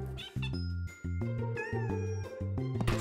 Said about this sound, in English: Where's that kitten gotten to? Uh-oh! She's stuck up in that tall tree!